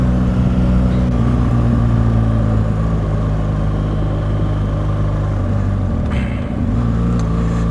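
2017 BMW R1200 GS Exclusive adventure motorcycle cruising on a lakeside road in Switzerland, with a steady engine drone and road noise near the microphone and a brief change in pitch late on.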